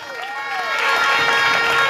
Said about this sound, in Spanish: quieran a Dayana, brindémosle un aplauso que se lo merece